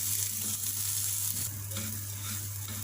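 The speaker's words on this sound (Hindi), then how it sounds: "2-3 मिनट सवैयों को और इन ड्राई फ्रूट्स को फ्राई करेंगे इस मक्खन में।" Vermicelli and dry fruits frying in butter in a pan on the stove, a steady close sizzle with faint stirring scrapes running throughout, no voices.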